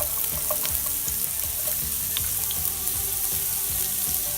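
Sliced carrot and mushrooms stir-fry in a hot pan with a dense, continuous sizzle and a steady patter of tossing and scraping, close and without speech.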